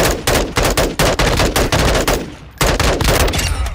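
Rapid automatic gunfire in Call of Duty Warzone at Al Mazra, loud close bursts of repeated shots with a brief pause midway before firing resumes.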